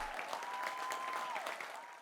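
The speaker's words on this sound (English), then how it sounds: "A round of applause, everyone, for Lumpy." Studio audience applause for a guest on a talk show, a short burst of fairly faint clapping with a steady tone running underneath.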